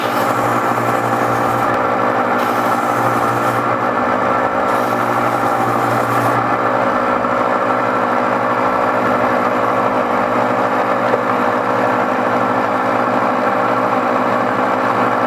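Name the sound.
gem faceting machine spinning at high speed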